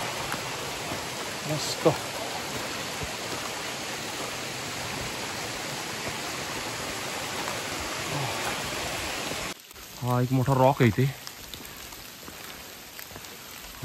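Steady rain falls through thick Sahyadri forest on a trek, a constant dense hiss throughout, with a person speaking briefly near the end over the rainfall.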